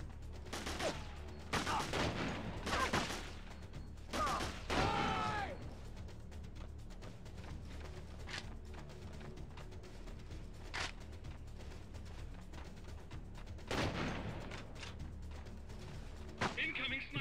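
Gunfire in the video game Delta Force: Black Hawk Down, several sharp bursts and single shots scattered through the stretch, some close and loud, others fainter, with a player talking between them.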